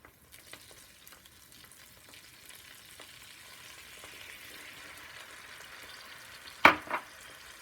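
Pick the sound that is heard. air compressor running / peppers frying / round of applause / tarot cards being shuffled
peppers frying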